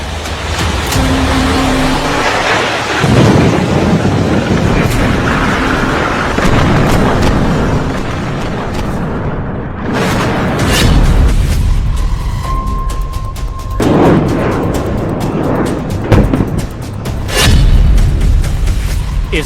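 Loud explosions tear through a Hezbollah building struck by the Israeli army: several heavy booming blasts and rumbling bursts come one after another, close and forceful.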